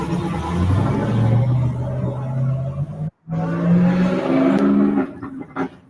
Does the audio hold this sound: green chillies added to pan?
no